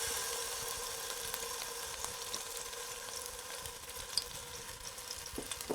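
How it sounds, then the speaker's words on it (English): Garlic sizzling in olive oil in a hot skillet, a steady broad hiss of frying that holds throughout with a few small pops, close and moderately loud, no talking. "I've already added the olive oil. So I'm going to add the garlic."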